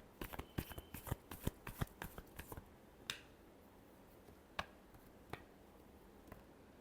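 A deck of cards shuffled quietly at close range: a quick cluster of soft snapping flicks at first, then thinning to a few isolated taps over a hushed background.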